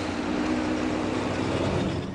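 A Ford van with an eight-cylinder engine, converted to run on SmartFuel with SmartPlugs, drives past with a steady, loud low-pitched drone that continues unbroken and fills the whole stretch.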